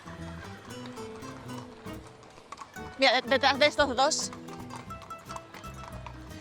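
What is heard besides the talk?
horses' hooves clip-clopping on street at Seville April Fair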